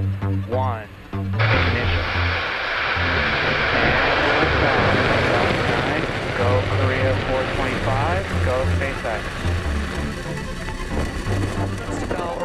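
Rocket engines roar after ignition during a launch carrying a reconnaissance satellite. The sound is a loud, continuous, rumbling broadband blast under a commentator's voice.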